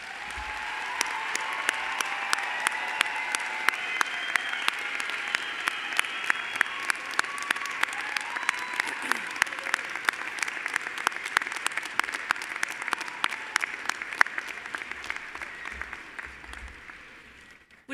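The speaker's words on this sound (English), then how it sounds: "let's give our graduates one final round of applause." Commencement audience applauding the graduating class at a university fall graduation ceremony, a dense sustained round of clapping filling a large hall that carries on steadily before tapering off near the end.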